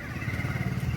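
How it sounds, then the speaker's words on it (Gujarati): A motorcycle engine hums steadily nearby on a narrow road, heard from inside a car with the AC on, with a brief louder swell at the end. "જોજો બાઇક છે"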